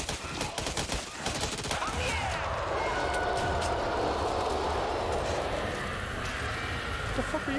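Gunfire in the video game Back 4 Blood as a player shoots at a nest in a basement, rapid bursts of shots over a dense game din, with voices talking over it.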